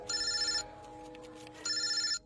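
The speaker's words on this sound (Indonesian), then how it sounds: "di tengah pekerjaanku itu, teleponku berdering." A telephone rings close by in two identical bursts of electronic trilling bell tone separated by a second of quiet, clear and alone.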